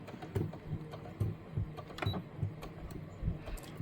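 Quiet, rapid mechanical ticking and whirring of a sewing machine stitching a traveler's notebook in short bursts, low and close.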